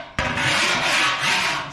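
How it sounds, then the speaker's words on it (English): Vixen file rasping across an aluminium car body panel on a pre-war Riley Brooklands, a single loud, close, continuous scraping stroke that starts abruptly and rolls on for over a second. "it's just a matter of sort of filing it"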